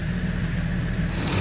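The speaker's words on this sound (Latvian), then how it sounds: "Motors rūts, kā redzams." Land Rover Discovery 3 engine running steadily after a difficult seal replacement repair, a continuous low idle hum heard up close with no talk.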